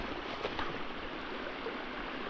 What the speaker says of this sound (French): Petit torrent qui dévale.